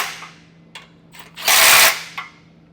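A 15mm socket on a power driver snugs down mounting bolts for a Roadmaster Direct-Connect base plate on a 2024 GMC Canyon, heard as one loud, rough whirring burst lasting under half a second, with faint clicks before and after and no talking.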